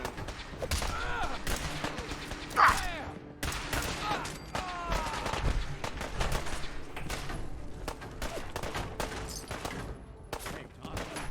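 Gunfire from the video game Fallout 4: dense, rapid volleys of shots and bursts crackle nearly nonstop, with one sharp louder report early on, while voices shout over the fighting.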